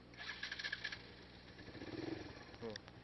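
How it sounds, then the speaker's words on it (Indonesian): A Yamaha Nexium 150R motorcycle engine sputters and turns over, giving uneven low revving bursts with a stock exhaust note, while a voice talks faintly nearby. "Ini jujur knalpot bawaannya suaranya emang kayak gini."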